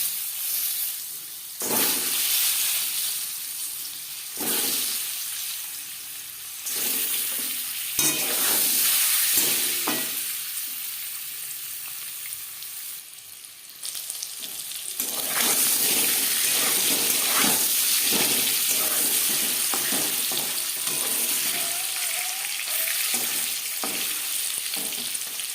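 Eggs fry in oil with turmeric over a low gas flame, a continuous close sizzle broken by repeated stirring scrapes and clatters, with a brief quieter dip before the frying surges louder again; nobody speaks.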